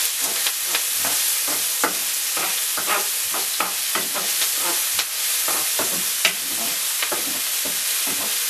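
Minced meat frying in olive oil in a pan on a hob, stirred and moved around: a steady loud sizzle with repeated scraping strokes of the spoon at close range, no voices.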